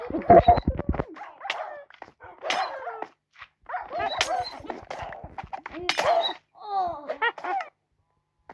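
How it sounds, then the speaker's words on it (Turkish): A Minecraft dog barks repeatedly in short, irregular bursts with whimpering yelps between, fairly close and clear against otherwise quiet gaps. "Köpek"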